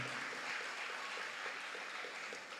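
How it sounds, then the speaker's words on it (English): A secondary school graduation audience applauding, a steady, fairly faint wash of many hands clapping at a distance, sustained for a few seconds with no talking. "please give a round of applause to the life and legacy of your teacher, Miss Joanna Allen"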